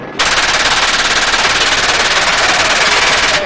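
Sustained machine gun burst fired from a gunship helicopter, a dense rapid rattle that holds steady and loud for over three seconds before cutting off abruptly.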